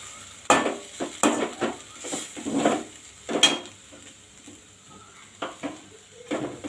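Cluster bean stir-fry being stirred in a pan with a utensil, a series of sharp scraping and clattering strokes at an irregular rhythm, close and distinct, with a soft sizzle between strokes.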